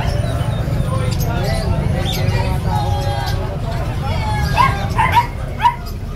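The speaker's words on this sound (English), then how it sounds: "Mga chihuahua." Small chihuahua dogs at a busy pet market, with yips and short barks toward the end over a constant crowd murmur and people talking.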